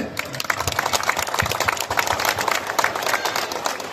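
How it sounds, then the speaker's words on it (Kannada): An outdoor crowd at an awareness marathon event in Kolar Gold Fields claps for the police department, a dense, steady wash of many hands applauding at close range and even loudness throughout. "ಅವ್ರಿಗೆ ದೊಡ್ಡ ಚಪ್ಪಾಳೆ"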